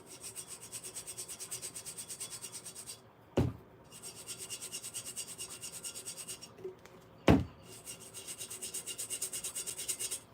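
A paintbrush scrubs paint onto a teapot in fast, soft, rhythmic strokes, close and quiet, interrupted twice by sharp taps as the brush or pot is knocked.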